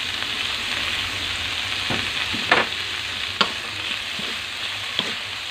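Bean sprouts (togue) sautéing in a pan for ginisang togue, a steady close sizzle with a few sharp utensil scrapes and clinks as they are stirred.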